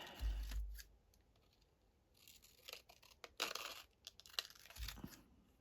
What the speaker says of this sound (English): So I'm going to start with cutting